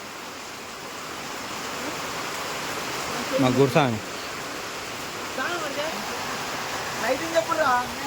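Heavy rain pours down in a constant loud hiss throughout during a Ganesh festival gathering, with brief talk and voices heard over it partway through.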